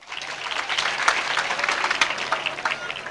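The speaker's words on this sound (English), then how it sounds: "Can we clap for them?" Moderate applause from the gathering at a boys' high school prize-giving ceremony, with many hands clapping steadily for the teachers across a few seconds.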